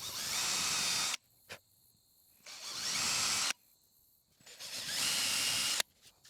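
A power drill with a brad point bit whirs loudly in three separate bursts of about a second each, with short quiet pauses between them as it bores into wood.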